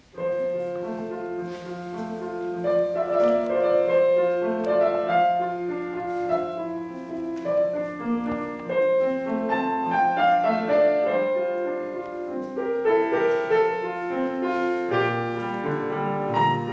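A chamber ensemble in concert plays its second and third movements, adagio and allegro, with layered sustained instrumental tones and moving melodic lines, continuous and full, with no talking.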